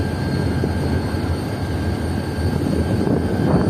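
The Rehman Baba Express rolls into Bin Qasim near Karachi with a loud, steady rumble of engine and rail noise, unbroken and close throughout.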